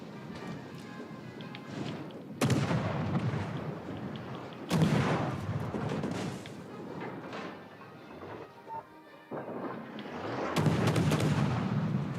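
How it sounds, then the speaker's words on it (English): Heavy naval guns firing from warships in a video game, several loud booming salvos spaced a few seconds apart with rumbling tails between them. "All stations, concentrate fire on the target."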